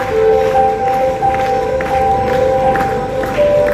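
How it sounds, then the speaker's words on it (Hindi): A church worship event audience applauds and cheers to welcome a musician, giving loud, dense clapping from a large crowd with scattered shouts, sustained throughout, while a sustained musical tone lingers underneath. "एक जोरदार ताली उनके स्वागत के लिए।"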